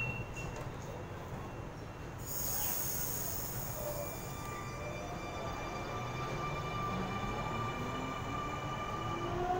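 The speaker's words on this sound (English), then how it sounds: "M-set now departing from platform 1" A Sydney M-set train departs from platform 1 at Punchbowl station, a steady, close rumble of wheels and motors that swells as it pulls away, with thin whines and squeals rising over the noise.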